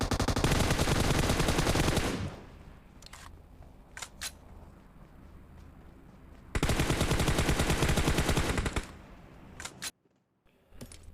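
Loud bursts of automatic gunfire in a BGMI squad battle, a long rapid volley, then scattered single shots and clicks, then a second sustained burst before a short silence.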